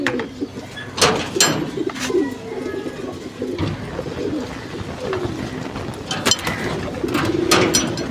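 Pigeons at a large pigeon farm cooing in overlapping low, throaty calls as they get fresh water on a hot day, with scattered wing flutters and short bursts of activity nearby, no talk.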